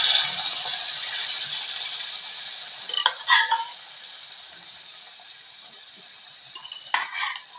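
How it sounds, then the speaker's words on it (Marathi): Boiled chickpeas are stirred into frying masala in a pan, a loud sizzle that fades gradually, broken by a few sharp scraping clinks of the spoon against the metal. "कुकरमध्ये जे आपण छोले भिजवून घेतलेले शिजवून घेतलेले ते आपण त्याच्यामध्ये ॲड करूया।"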